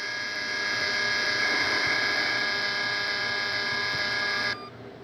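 A loud continuous electronic buzzing tone from a truck reversing in a Roblox game, with a harsh, steady drone that cuts off abruptly near the end, leaving quieter background noise.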